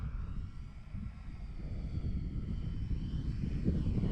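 An X-Fly Twin Nova RC twin-engine airplane comes in to land on grass without flaps. A low, steady rumble with a faint higher motor whine continues through the clip, and no one speaks.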